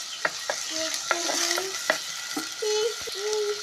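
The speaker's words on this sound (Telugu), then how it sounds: "ఉల్లిపాయ ముక్కలు వేస్తున్నానండి. కొద్దిగా ఉప్పు వేస్తున్నాను మగ్గుదాకి." Onion pieces fry with a little salt in a pan, a soft steady sizzle broken by clicks and scrapes of stirring and short tonal squeaks, close and fairly quiet.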